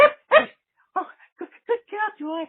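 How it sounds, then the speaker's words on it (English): Tango, a dog, lets out a couple of sharp close barks followed by a string of shorter yips and whines, with a person speaking briefly in between. "That was my dog, Tango."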